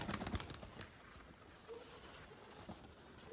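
A female pigeon coos softly among a man's father's Mykolaiv pigeons, faint and somewhat distant over quiet outdoor background noise, with a few brief knocks early on.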